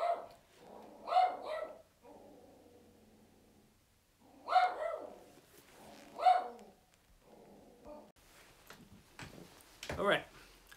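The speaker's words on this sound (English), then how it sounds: "she's running to the other room to bark out of the other window" A dog barks at a house window, a few loud separate barks with pauses, plus softer whines and yips between them, recorded close by indoors.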